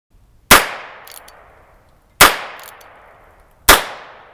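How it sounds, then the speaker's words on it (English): An unsuppressed Heritage Tactical Cowboy revolver fires three loud, sharp shots less than two seconds apart. Each crack has a brief echoing tail, with light clicks between the first two. No one speaks. "Compare that to the exact same revolver without a suppressor."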